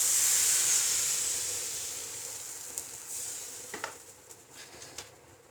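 Loose egg and maida batter cooking in a frying pan for chattipathiri, a steady close hiss and sizzle that slowly fades, with a few faint clinks of a utensil near the end.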